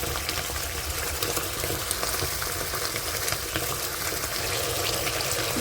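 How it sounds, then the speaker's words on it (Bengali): Spice paste sizzles steadily in hot oil for tel koi fish curry, a dense continuous crackle with faint stirring scrapes, close and even throughout. "যতক্ষণ না মশলা থেকে তেল ছাড়ছে ততক্ষণ আমি এগুলোকে কষতে থাকবো।"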